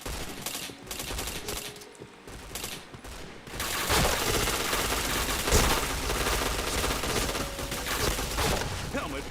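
Video game gunfire, a quieter stretch of scattered shots giving way to a dense, continuous burst of rapid automatic fire that holds steady and loud to the end.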